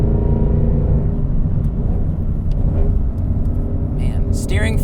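A Ford Mustang Shelby GT500 in track mode gives a loud, steady engine rumble throughout, close and continuous, with a brief sharper whine near the end.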